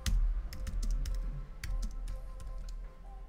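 Rapid typing on a computer keyboard, with a steady run of close, crisp key clicks in irregular bursts and no talking.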